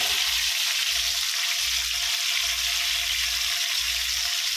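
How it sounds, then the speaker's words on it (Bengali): Fish sizzles in hot oil with a dense, loud, continuous hiss and crackle, close by and steady, with a low rumble pulsing beneath and no voices. "এই যে দেখেন কত সুন্দর করে মাছ বাজি করতেছে"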